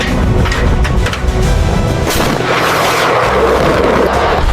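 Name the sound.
missile launch in a cinematic jet dogfight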